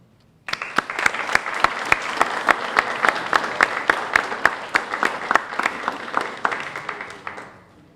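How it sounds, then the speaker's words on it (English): Audience at a 2021 B-R Excel graduation ceremony applauds with sharp, distinct claps that start abruptly and hold steady for about seven seconds before tapering off. "All right, now it's okay for us to applause."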